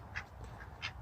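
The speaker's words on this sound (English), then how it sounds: "and Boom Boom is the duck" A duck at a chicken coop on a ranch gives two short quacks about a second apart, close by over a low background rumble.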